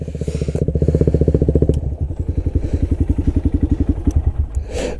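A KTM and a Honda Grom motorcycle idle together up close. Loud, fast-pulsing engine chug lasts throughout, with a brief dip near the two-second mark and a rougher, uneven throb afterward.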